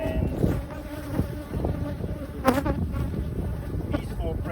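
Honey bees buzz around an open hive during a summer hive check, a steady, close swarming drone with individual bees passing near and away.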